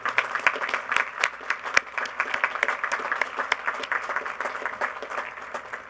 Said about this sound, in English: Will you join me in a round of applause for President Ruscio?